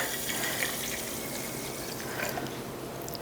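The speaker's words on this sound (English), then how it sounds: "Now we want to make sure that we more than cover these with water." Water is poured over sprouting seeds in a container to soak them, making a steady, continuous rushing and trickling sound that stays close and even throughout, with no talking.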